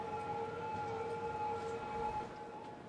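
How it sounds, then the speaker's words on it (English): Numerous ambulance sirens wail together in the city-building game Cities: Skylines, forming a steady, loud chorus of sustained tones that holds for the whole stretch with no talking. "That's a lot of ambulances!"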